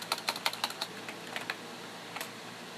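Fingers type on a computer keyboard: a quick burst of sharp, close key clicks, then a few scattered taps after a short pause.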